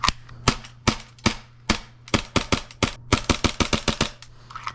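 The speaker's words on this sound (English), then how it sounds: "I'll do the rest of these BBs and then I'll do some dry firing to see how fast I can actually shoot this guy" Airsoft pistol firing BBs, a long string of sharp, snappy shots in an uneven rhythm, some quick doubles and a faster burst near the end, close and loud with a faint steady hum beneath.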